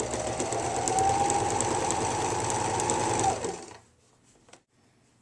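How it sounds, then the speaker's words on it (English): A sewing machine stitches steadily around the corner of a zippered coin purse, its rapid even hum running for about three and a half seconds before stopping, followed by faint handling noises. "pivot around the corner, and continue sewing"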